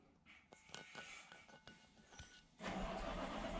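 A truck engine cranks and catches near the end, bursting into a loud, rough idle after a quieter stretch of faint clicks and shuffling in a garage.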